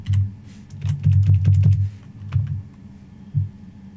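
Keyboard typing while playing classic World of Warcraft: a loud, close run of fast key presses with a thumpy low tone, followed by a few isolated taps after a pause.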